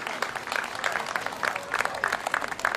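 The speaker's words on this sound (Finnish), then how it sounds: "Anian neidot ansainneet yhteiset aplodit, eiköhän anneta?" An outdoor crowd applauds the maiden candidates at a presentation event, dense uneven clapping with some voices mixed in.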